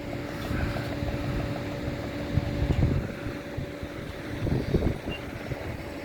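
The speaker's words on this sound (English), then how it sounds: "we've got a fuel boat coming as well" A fuel boat passes by on the water with a low engine rumble and a steady hum that swell and fade slightly, heard at a moderate distance under wind noise with no speech.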